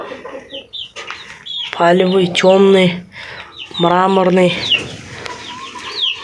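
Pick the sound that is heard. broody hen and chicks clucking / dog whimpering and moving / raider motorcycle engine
broody hen and chicks clucking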